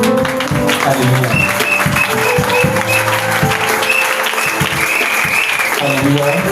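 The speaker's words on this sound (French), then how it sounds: "Nous allons d'abord acclamer pour le président et son couple." A church congregation applauds steadily and loudly throughout, with voices and cheering mixed into the clapping.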